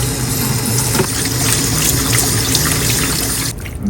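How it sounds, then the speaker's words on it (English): Tap water runs steadily over raw chicken tenderloins taken from the packet for a quick rinse, a close, continuous splashing stream at a kitchen sink, with no talking. "Let's take it out from the packet and give it a quick rinse from the fresh water."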